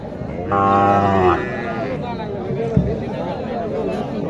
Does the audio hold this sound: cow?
yes